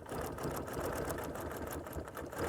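Sewing machine stitching a flower design into a quilt, a fast, steady mechanical whir with dense rapid needle clatter, close and continuous for a short stretch.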